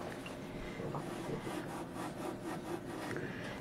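Ceramic greenware is smoothed and trimmed with a tool, a quiet, steady scraping and rubbing with faint rhythmic strokes, close up, with no talking.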